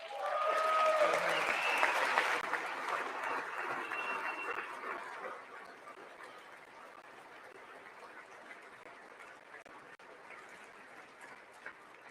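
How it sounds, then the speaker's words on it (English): Audience applause in a legislative chamber during a political speech, a loud burst of clapping for the first couple of seconds that thins into scattered, fading claps and murmurs for the rest. "I wasn't sure if anybody even on this side was going to applaud for that"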